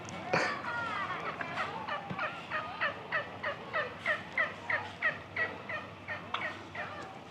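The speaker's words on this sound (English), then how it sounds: "Like, there are turkeys everywhere." Wild turkeys gobble repeatedly in a yard, a rapid series of rattling calls from several birds close by, with quieter chatter between bursts.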